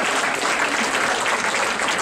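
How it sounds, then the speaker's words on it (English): Audience applause at an Oregon U.S. Senate debate, given for the debate sponsor: dense, steady clapping from a crowd that fills the whole moment at full strength without a break. "Let's give him a round of applause."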